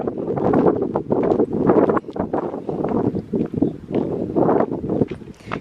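Strong wind buffets the microphone outdoors in gusty, rumbling surges that fill the whole stretch with no other clear sound.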